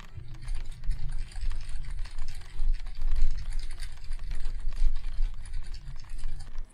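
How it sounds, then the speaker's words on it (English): Rapid typing on a computer keyboard with a macro setup, a dense run of fast clattering keystrokes that continues without pause, close to the microphone and with no voices. "I'm typing so fast, look!"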